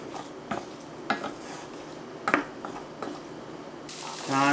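Onions fry in beef tallow in a pan, a soft, steady sizzle with several sharp clinks of a utensil against the pan, close but fairly quiet.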